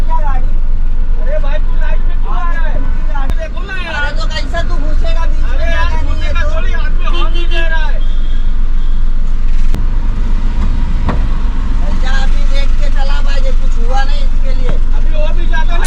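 In busy Mumbai street traffic after a small car accident, several people shout and argue loudly amid a dense crowd babble, with car and bus engines rumbling close and continuously throughout.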